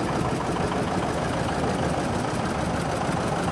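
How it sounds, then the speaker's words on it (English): A 1955 John Deere Wheatland standard two-cylinder diesel tractor running at an old-time farm show parade, a dense, loud, continuous engine drone close by with a rough mechanical chug throughout and no talking. "This is a standard Wheatland diesel, 1955 model"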